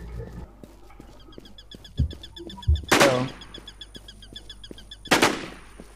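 Two sharp, loud sniper rifle shots in Infestation: Survivor Stories, a few seconds apart, each ringing with a bright crack and short tail over quiet in-game ambience and faint thuds.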